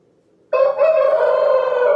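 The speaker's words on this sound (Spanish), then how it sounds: "Me encanta el gallo." A rooster crows loudly and close, a single sustained call that bursts out suddenly after a moment of near silence and rings on without pause.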